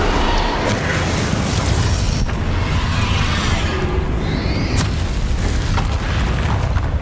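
Explosive spells such as Confringo and Bombarda blast repeatedly during a boss fight against Ranrock in Hogwarts Legacy, producing heavy booming bursts over a dense, continuous rumble of combat.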